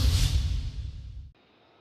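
An F-35 fighter jet engine roaring past at a military ceremony in Lask, Poland, a loud broad whooshing rush that fades and then cuts off abruptly.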